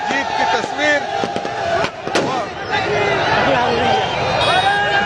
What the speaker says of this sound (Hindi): भारतीय समर्थक तिरंगा के साथ साथ आतिशबाजी भी कर रहे हैं